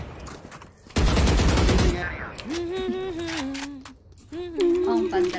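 A dense burst of rapid automatic gunfire in a video game rattles for about a second, loud and close, followed by quieter game sounds while people talk.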